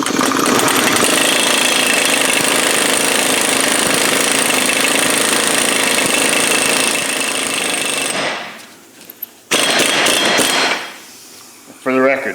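An impact wrench hammers loudly and continuously on a bolt while working on a Dodge Charger, a dense rattling burst for several seconds that cuts off, with a brief short burst afterward.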